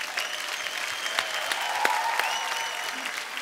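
A television comedy show studio audience gives hearty applause, with bright individual claps standing out from a continuous mass of clapping.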